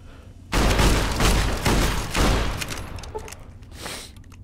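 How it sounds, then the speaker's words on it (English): Weapons fire in Fallout New Vegas, in the Old World Blues X-8 Research Center, erupts as a loud flurry of rapid gunshots and bursts that keep coming in waves for a few seconds before dropping off to scattered quieter shots. "What is shooting at me?"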